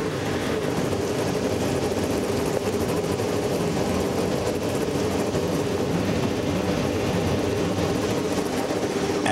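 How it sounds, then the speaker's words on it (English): Race car engines fire up together at the St. Petersburg Grand Prix street race in wet weather, a continuous loud, dense engine roar without let-up. "Ladies and gentlemen, start your engines."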